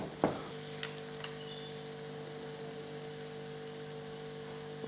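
Vermicelli with roasted dry fruits cooking in a pan, a soft steady sizzle with a single stirring clatter near the start and a few faint taps, otherwise quiet and without talk.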